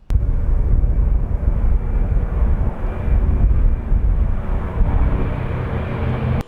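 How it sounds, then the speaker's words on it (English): Loud, continuous propeller engine drone with a broad rumbling roar that holds steady throughout, from a vintage propeller airliner taxiing and taking off. "the plane taxied into position, providing a contrast to the big commercial jets and then lifting off smoothly"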